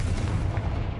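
A Confringo blasting spell explodes in Hogwarts Legacy, a short, muffled low boom with a rumbling tail, fairly faint and heard alone.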